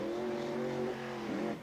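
A race car engine revs hard as the car crosses a set of jumps, giving a loud, close, buzzing roar. The pitch rises and dips with the throttle, and no one talks over it.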